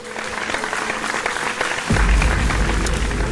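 A television singing competition audience bursts into loud, sustained applause for a contestant, a dense wash of clapping that swells with a deeper crowd roar partway through.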